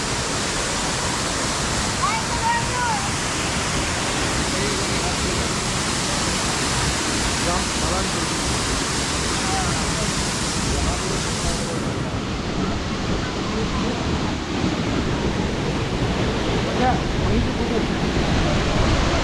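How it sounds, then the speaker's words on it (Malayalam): A waterfall in the hills around Gangtok, Sikkim, roars as a dense, steady broadband rush filling the whole clip, loud and close, with faint voices briefly audible beneath it. "ഇതാണ് വാട്ടർഫാൾസ്."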